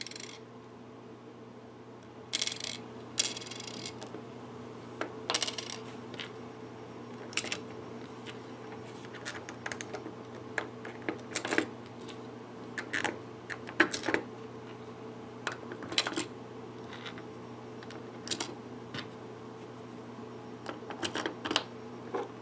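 Small guitar parts from Temu are fitted onto a guitar neck by hand, giving scattered light clicks and taps at irregular intervals over a quiet, steady hum.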